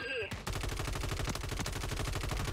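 Rapid automatic gunfire from the Call of Duty Warzone video game, a loud, steady stream of evenly spaced shots running without pause after a brief opening sound.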